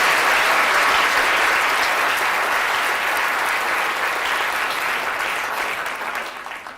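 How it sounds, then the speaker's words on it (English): Audience applause at a science talk, a dense, steady burst of clapping heard close up that gradually tapers off toward the end. "Give it a big round of applause."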